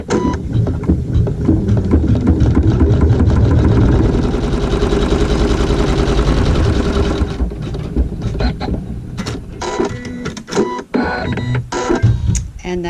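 A sewing machine stitching a tack down on quilting fabric runs loud and steady for about seven seconds, then continues in shorter, uneven bursts close to the microphone.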